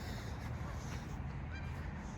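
Geese honking in a noisy, continuous chorus at a Canadian beach, a dense flock close by with broadband rustle underneath and no distinct individual calls standing out.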